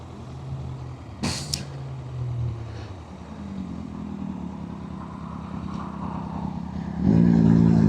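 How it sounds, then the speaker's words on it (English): A 600cc motorcycle passes on a road, its engine rising and rumbling past with a steady drone, then growing louder near the end amid other traffic and a brief hiss. "There goes another bike. Looks like a 600 as well."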